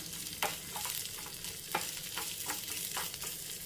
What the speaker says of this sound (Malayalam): ഞാൻ തേങ്ങാക്കൊത്ത് ഇട്ട് കൊടുത്തിരിക്കുകയാണ്